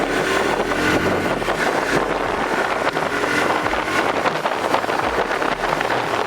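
A TVS Apache RTR 180 2V motorcycle accelerates hard from standstill toward 60, its engine and rushing wind noise loud and continuous throughout, heard up close from the rider's position with no talking.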